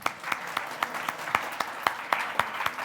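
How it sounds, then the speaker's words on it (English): Light audience applause for a conference panel, with distinct individual claps in a steady patter, moderately faint and fairly brief. "round of applause for our panel"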